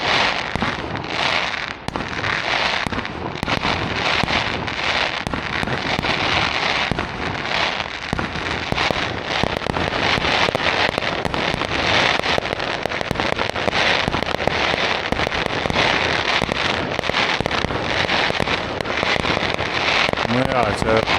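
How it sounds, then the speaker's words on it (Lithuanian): Fireworks and firecrackers burst overhead at an early New Year celebration, a dense, continuous crackle of rapid pops and bangs that is loud and close throughout, with faint voices beneath it. "Tikrai visų rūšių fejerverkai."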